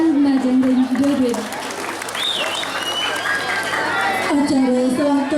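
Applause from an audience after a Balinese kembang girang dance performance at a community coupon draw event, dense clapping and cheering under a loud announcer's voice that starts and ends the stretch.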